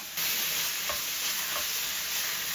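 Lean ground beef with onions frying in a pan, a loud steady sizzle with occasional stirring scrapes and no talk.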